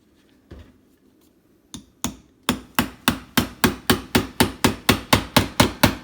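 A hammer taps a putty knife wedged behind ceramic backsplash tile: a few scattered knocks, then a quick, even run of about a dozen sharp, close metallic taps.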